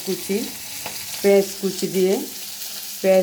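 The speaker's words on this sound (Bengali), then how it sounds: "আমি ভাজি করছি রুই মাছ দিয়ে পেঁয়াজ" Rohu fish fries in a pan with chopped onion and green chillies, a soft continuous sizzle broken by intermittent squeaky, tonal scraping sounds.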